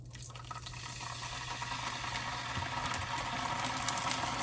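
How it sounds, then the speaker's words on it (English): A cheap steak sizzles in a hot pan, a steady hiss and crackle heard close up, fairly quiet and continuous with no talk. "There's the sizzle"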